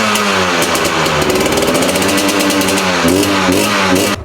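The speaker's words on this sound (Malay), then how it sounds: "Kau dengar aku start enjin motor ni." A KTM 300 six-day two-stroke motocross motorcycle engine revs loudly and close, with a harsh buzzing rattle and repeated throttle blips rising and falling throughout.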